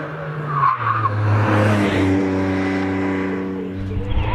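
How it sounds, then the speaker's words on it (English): A Renault Twingo 133 race car at the Prescott hill climb drives past loudly, its engine note holding steady and then shifting pitch, with tyre scrub and a wash of engine noise throughout and no speech. "he will be followed by Rob Guttridge in that little Renault Twingo 133"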